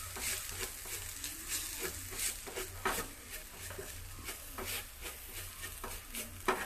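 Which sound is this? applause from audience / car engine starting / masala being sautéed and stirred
masala being sautéed and stirred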